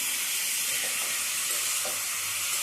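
Chicken hits a hot pan of softened onions with turmeric and tomato paste, giving a steady, bright sizzle throughout with a few soft stirring clicks and no voices.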